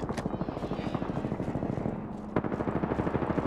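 Rapid bursts of gunfire in a battle royale video game rattle continuously at close range, with a rhythmic mechanical whir running underneath and a sharp louder shot near the end.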